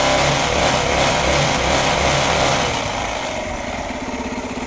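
A car engine revs and idles steadily at close range with a dense, continuous hum that eases slightly as the revs drop near the end.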